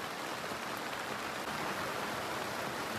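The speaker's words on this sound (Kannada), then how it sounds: "ಮಳೆ ಬಂದಿದೆ" Rain falling steadily at a temple, an even, dense hiss of drops on surfaces with no break and no voices.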